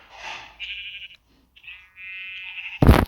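Sheep in the Minecraft video game bleat several times, producing drawn-out, wavering nasal cries separated by short pauses, close and clear, followed by a sudden brief loud burst at the end.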